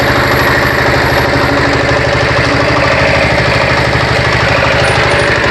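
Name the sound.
engine of a firewood splitting machine running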